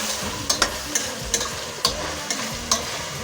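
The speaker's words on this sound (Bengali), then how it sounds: "পেঁয়াজ দিয়ে মাংসটা একটু ভাজা ভাজা করবো" Meat and onions fry in a pan with a steady sizzle, punctuated by repeated sharp scraping stirs every half second or so, close and fairly loud.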